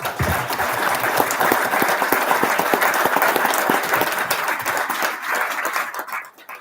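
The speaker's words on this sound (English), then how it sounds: "round of applause to the big team here." A town hall audience breaks into a round of applause, dense sustained clapping from many hands close by that holds steady for several seconds before tapering off at the end.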